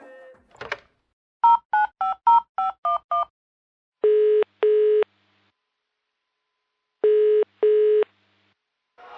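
A telephone call being placed: a burst of rapid keypad dialing tones, then paired ringback tones spaced apart with silences between, clear and close with no talking.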